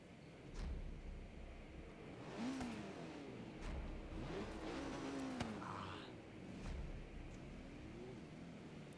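A turbocharged sports car engine in Forza Horizon 3 revs up and down in repeated bursts, rising and falling in pitch, with occasional popping from the exhaust.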